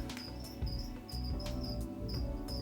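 A few loose crickets in a room where green tree python neonates are kept, chirping in repeated high, bright pulses that recur at irregular intervals over a low steady background hum.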